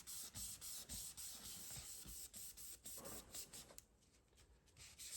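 Dorland's wax being buffed by hand over a watercolor painting, a quiet dry rubbing and scuffing with a steady back-and-forth rhythm, close up, with no talking.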